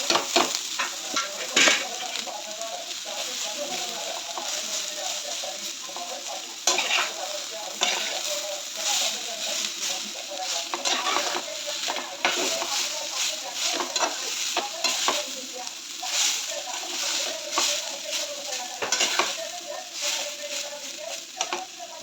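Shredded potato frying in a little oil over low-medium flame, a continuous close sizzle with frequent scraping stirs and light clinks of a utensil against the pan, no talking.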